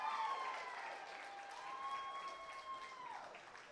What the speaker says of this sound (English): Round of applause for Vanna White over here.